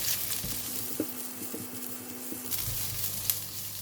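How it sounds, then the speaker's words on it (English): Onions fry with browned garlic in a pan, a soft steady sizzle with faint stirring and a low background hum, near and quiet, no talk. "Garlic is almost brown and I'm going to put in the onions. Fry it together."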